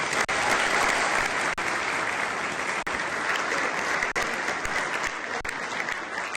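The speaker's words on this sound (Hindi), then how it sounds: "हाल में मौजूद लोगों ने तालियां बजाकर नए मुंतखब होने वाले मेयर का भरपूर इस्तकबाल किया" People in a hall applaud a newly elected mayor with loud, continuous, dense clapping that holds steady throughout.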